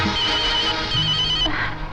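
A telephone rings loudly and steadily for about two seconds with no talking over it. It is an incoming call for a police superintendent.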